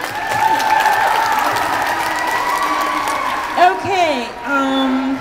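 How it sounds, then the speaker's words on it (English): Audience at a book panel event for teen novelists claps for an author being introduced. The applause is full and sustained, then thins as a speaker's voice comes in near the end. "a round of applause for Christina"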